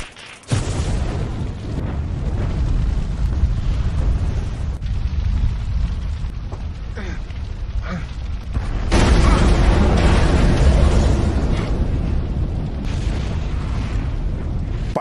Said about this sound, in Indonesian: Jae lekas menyelamatkan Jang-gun terlebih dahulu sebelum mobil tersebut meledak.